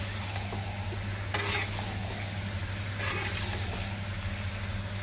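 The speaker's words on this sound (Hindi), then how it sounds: "इस तरीके से मैं इसको धीरे धीरे उलट पलट कर दूंगी, जिससे गोभी घुटे ना" Carrot, pea, potato and cauliflower sabzi being stirred and turned in a pan, giving a steady soft sizzle with a couple of brief scraping stirs, close and continuous under a constant low hum.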